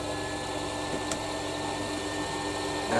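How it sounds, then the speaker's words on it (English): A metal lathe skims down the heads of bolts for a compound slide replacement block, giving a steady machine whir with a thin high tone and a brief click near the middle, rising slightly at the end. "I'm just skimming them down."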